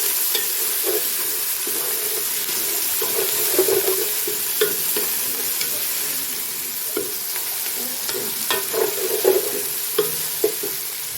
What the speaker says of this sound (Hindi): इसको थोड़ा फ्राई करेंगे